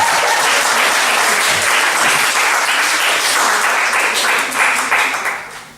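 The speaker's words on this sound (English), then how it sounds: "round of applause for Cesar, please" Loud, close crowd applause at a stand-up comedy show, a thick continuous roar of clapping from a packed room that holds strong before easing and tapering off near the end.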